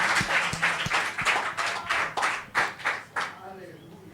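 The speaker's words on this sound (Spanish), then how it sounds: "yo le daría un aplauso que se rompa este edificio que queda aquí" Hand claps during a Spanish-language church teaching service: about a dozen sharp, evenly spaced claps at moderate loudness in a reverberant room.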